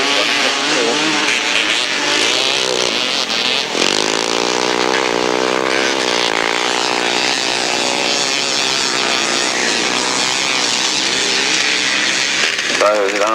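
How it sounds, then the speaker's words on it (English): Grasstrack racing motorcycles at wide open throttle at the 1991 South East championships scream past in a loud, continuous, raspy engine howl, pitch rising and falling as several machines pass close together. "as he comes round that turn with the throttle wide open"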